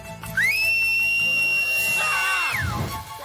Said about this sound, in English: I need you to whistle as loud as you can